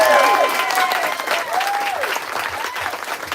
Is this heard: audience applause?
yes